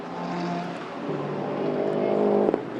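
A GT race car at Estoril roars past the commentary box, its engine note climbing and swelling into a loud, close pass before cutting off sharply.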